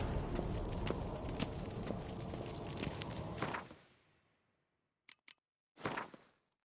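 Horse hooves clip-clop in a PS4 game, a dense run of rhythmic, fairly close hoofbeats layered with busy game ambience that fades out, followed by a few short isolated knocks.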